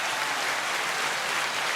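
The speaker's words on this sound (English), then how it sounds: "Little round of applause for us while we take a little sip" Steady clapping from a small group, even and continuous for a moment, with no voices on top.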